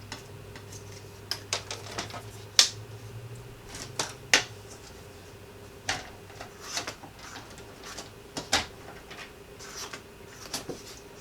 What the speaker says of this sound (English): So let's get our trimmer.